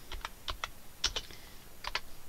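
Light clicks of typing on a computer keyboard, a few quick pairs of keystrokes with short pauses, close and soft.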